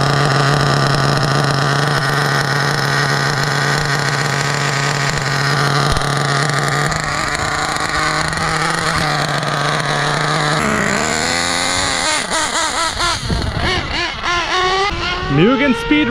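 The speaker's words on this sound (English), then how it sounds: "MUgen speed run with the larger 1/8 scale standard size Buggy tires." A Mugen nitro RC buggy on larger 1/8 scale standard buggy tires screams loudly through a top-speed run, its high engine whine holding steady and then shifting in pitch as it changes speed and passes.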